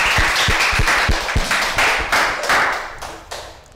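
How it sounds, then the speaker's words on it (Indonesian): A few people clap close by at the opening of a school podcast, producing an irregular burst of hand claps that grows uneven and starts to fade near the end. "Tepuk tangan dong buat kita semua"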